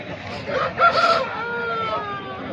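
A rooster crows once at a busy Sunday chicken market in Pileru, the call rising and falling in a stretched series of tones over a murmur of crowd noise and distant voices.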